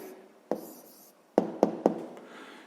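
Pen writing on paper while a sixth-grade maths answer is noted down: a soft scratching stroke followed by several sharp taps and scrapes in quick succession, close and fairly quiet, with no talking.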